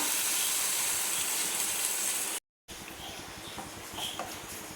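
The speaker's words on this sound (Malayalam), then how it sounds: "കുറച്ച് ചൂടുവെള്ളം ഒഴിച്ച് കൊടുക്കാം" Hot water poured into a pan of chicken cooked with coriander and cumin powder, producing a steady close hiss that breaks off briefly, then resumes a little quieter with faint clatter.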